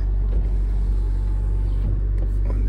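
A 2007 BMW Z4 engine idles steadily close by, a constant low rumble with a faint mechanical hum and no talk.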